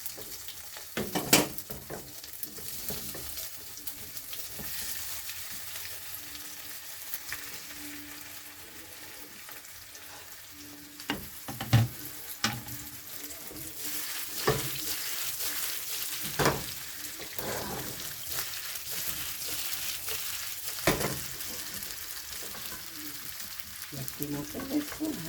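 Sesame seeds fry in hot oil with a steady, close hiss and sizzle, broken by sharp spluttering pops and occasional utensil clinks, while someone talks over the cooking.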